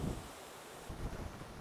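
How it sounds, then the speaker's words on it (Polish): Strong, dangerous wind gusting through ornamental grasses, a steady broad roar that swells briefly midway, fairly close with no voices. "pomimo tego niebezpiecznego wiatru, jaki jest"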